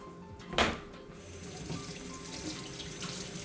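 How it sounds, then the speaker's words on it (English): Hands being washed under a running kitchen tap, a steady close stream of water with a brief splash near the start and no talking. "And again, we'll wash our hands."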